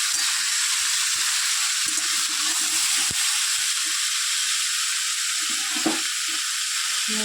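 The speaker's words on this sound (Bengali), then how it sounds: "সমস্ত সবজিগুলো তো আমার খুব ভালো করে ভাজা হয়ে গেছে।" Vegetables frying in a pan for a home-cooked curry: a constant bright sizzle close by, with occasional soft knocks and scrapes from stirring, and no talking.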